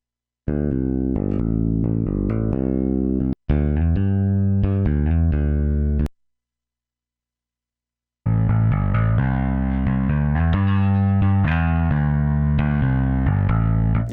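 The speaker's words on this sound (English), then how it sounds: "Some distortion on that." Distorted electric bass from the Toontrack Classic Rock EBX for EZ Bass playing a gritty riff, with a brief pause partway through before the fuzzy notes return.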